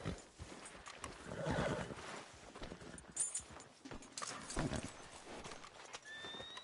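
A horse in the Red Dead Redemption 2 video game whinnies and clip-clops in short bursts of hoofbeats up close, with a loud neigh near the middle and scattered clattering steps, no speech.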